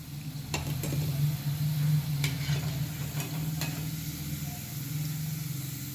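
Fasting-style medu vada fry in hot oil with a steady, close sizzle, broken by a few sharp crackles and pops.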